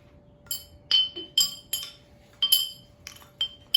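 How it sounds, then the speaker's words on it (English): Bright clinking tones ring out one strike at a time, about ten irregular hits of glass and wood wind chimes tapped with a mallet, close and fairly quiet. "So let's hear what it sounds like again."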